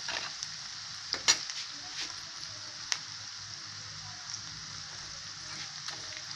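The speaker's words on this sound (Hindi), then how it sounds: "नमक ऐड करने से हमारा प्याज जो है बहुत जल्दी भुन जाएगा।" Chopped onions frying in a pan with a little added salt, giving a faint, steady sizzle with occasional clicks of a spoon stirring, heard quietly and close with no talking.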